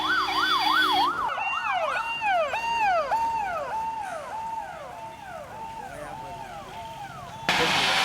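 An ambulance siren wails in repeated falling sweeps as an ambulance, escorted by police, rushes a patient to a hospital. It is loud and continuous and close, with a brief steadier tone at the start and a burst of noise at the end.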